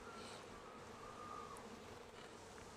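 Honey bees swarming around an opened hive during a hive split, a faint, steady buzzing hum with no voices.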